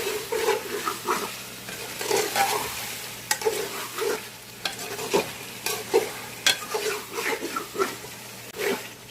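Chicken pieces sauté in a pot with turmeric and ground coriander as a spoon stirs them, giving a steady sizzle broken by repeated rhythmic scraping strokes, close and clear.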